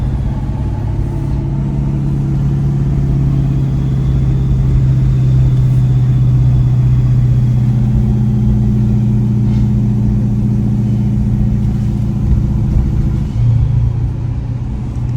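A 2018 Ford F-350 diesel pickup engine with compound turbos idles or cruises with a steady, deep rumble that holds evenly for the whole stretch, with no voices over it.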